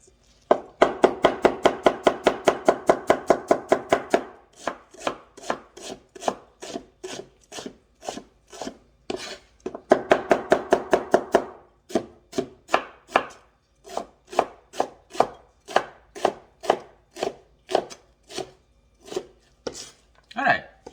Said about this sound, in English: Cabbage is going to be my main ingredient. I just cut the portion out.